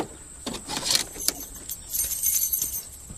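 Metal keys jangle and clink in several bright bursts, handled close by inside a car.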